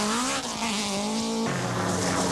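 A 1984 Nissan rally car at full throttle on a fast-flowing New Zealand WRC stage, its high engine note rising through the revs with a gear change midway, loud and close, with no talk.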